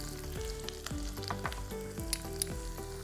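Ajwain (carom) seeds dropped into hot oil with fried green chillies for a thalipeeth tempering, crackling and sizzling steadily with sharp little pops throughout, close up, with no talk.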